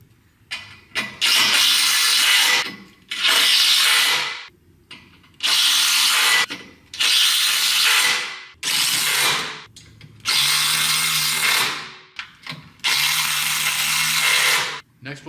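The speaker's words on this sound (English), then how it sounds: "To attach the rafters to the jamb, we'll use button head fasteners." A power drill drives button head fasteners through the jamb into aluminium sunroom rafters in repeated loud whirring bursts of one to two seconds each, separated by short pauses with faint handling noise.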